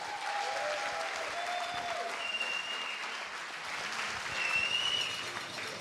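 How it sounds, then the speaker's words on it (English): Wedding guests applaud during the speeches at a reception, a steady, moderately quiet wash of many hands clapping with a few whoops and faint high whistles over the crowd. "Let's give them a round of applause for all their hard work."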